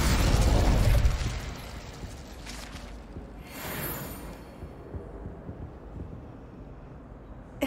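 Incendio fire spell cast in Hogwarts Legacy: a loud fiery burst that rumbles for about a second, then fades into a softer whooshing swell and quiet crackles.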